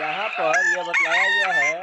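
A rooster crows loudly and close by in one long, wavering cock-a-doodle-doo with rich harmonics, while someone speaks briefly at the same time.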